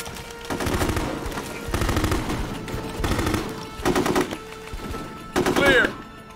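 Bursts of automatic gunfire in the Full Spectrum Warrior video game, arriving as five or six loud rattling volleys separated by short pauses, with faint game sounds between them.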